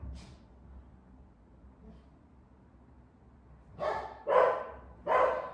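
Three loud, excited dog barks close by in quick succession, coming after a quieter stretch of faint room noise.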